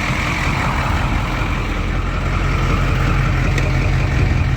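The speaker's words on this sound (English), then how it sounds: "For being an old school bus motor." Old school bus engine idling just after a cold start, a steady loud low rumble with a constant throb and no voices.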